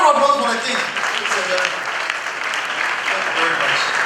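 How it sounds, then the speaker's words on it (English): Audience applause at a graduation ceremony honouring the Asantehene, Otumfuo Osei Tutu II, and his wife: a broad, steady wash of clapping lasting several seconds, with voices audible underneath. "I want to applause for the king."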